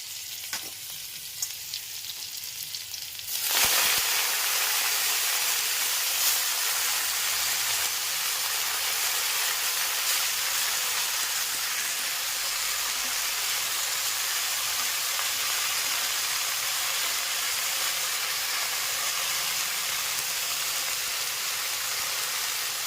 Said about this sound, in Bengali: তারপর রসুন ফোড়ন দিলাম, দিয়ে এখন শাকগুলো দিয়ে দিলাম।